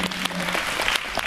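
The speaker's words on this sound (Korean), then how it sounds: "다시 한번 정우희 작가님께 박수 부탁드리겠습니다" An indoor audience applauds after a lecture, a short burst of close, dense clapping with sharp individual claps standing out.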